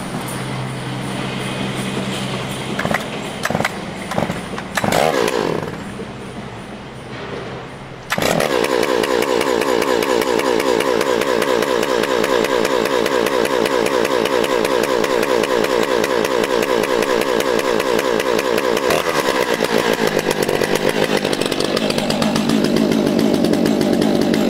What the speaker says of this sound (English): Definitely want these saws to warm up for a few minutes before you start cutting with them.